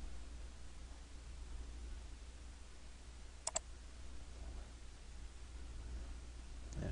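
A computer mouse clicks on a download link, a quick double click standing out faintly against a quiet room hiss, with nothing else happening around it.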